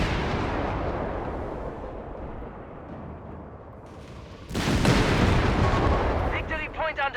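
Tank cannon and gunfire from the game Company of Heroes 3, with heavy rumbling battle noise throughout, a louder burst of firing and explosions midway, and a stuttering burst near the end.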